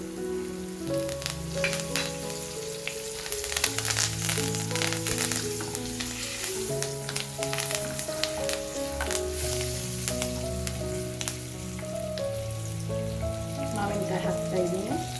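Curry leaves crackle and sizzle in hot oil in a busy, continuous patter while someone talks over the frying.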